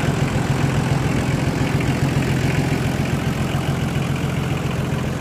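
A Nissan Patrol Y60 engine being started without a battery, running as a steady, loud idle with a low rumbling knock throughout, close by and with no talk.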